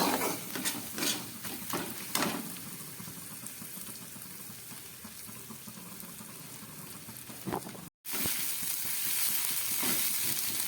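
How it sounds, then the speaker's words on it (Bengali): Garlic, ginger, cumin and chili powder fry in oil for a potato curry, giving a continuous close sizzle with a few stirring scrapes and one brief gap, and no talking. "রসুন আদাটা একটু কষিয়ে নিলাম এবার দিয়ে দিচ্ছি হাফ চামচ জিরের গুঁড়ো আর দিয়ে দিচ্ছি হাফ চামচ শুকনো লঙ্কার গুঁড়ো"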